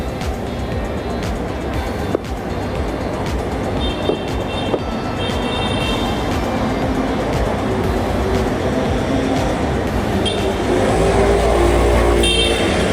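Steady street traffic rumbles nearby at Étienne Marcel near a metro station in Paris, with passing vehicles and a louder engine swelling near the end; no one speaks.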